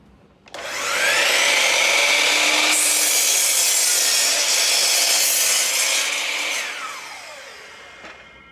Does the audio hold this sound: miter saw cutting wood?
yes